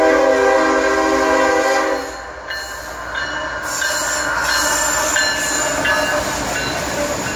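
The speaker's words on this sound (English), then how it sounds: "And you can hear the switch tracks going down there at West Point." CSX freight train rolling over switch tracks at West Point with a lot of cars, starting with loud sustained horn-like tones, then a steady rumble of wheels with clanks and some squeal, close and continuous.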